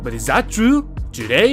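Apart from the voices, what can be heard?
None of the usual background noises is heard.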